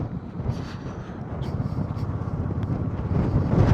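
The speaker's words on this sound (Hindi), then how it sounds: "कितनी तेज़ हवा चल रही है यहाँ पे।" Strong wind at Darcha Bridge in Himachal roars across the microphone in a steady, dense low rumble that grows slightly louder, with faint higher sounds behind it.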